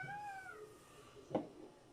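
A house cat in a kitchen lets out one short, clear meow, followed after a brief pause by a soft thump.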